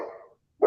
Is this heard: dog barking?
yes